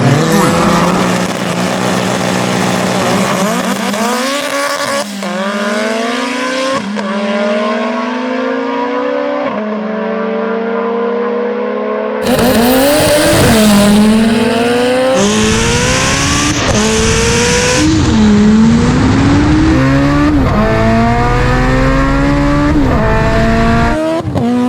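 An Audi RS3 and a Mitsubishi Evo VIII, both all-wheel drive, running a drag race, with loud engines accelerating hard through successive upshifts, rising and falling pitch sweeps and a louder close pass midway, with no talking.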